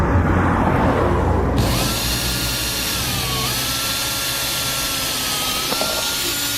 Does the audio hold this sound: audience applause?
no